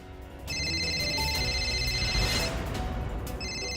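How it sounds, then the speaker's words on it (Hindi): A phone rings with a bright electronic ringtone, repeating tones that pause briefly and then start again, fairly close and clear. "फोन बज रहा।"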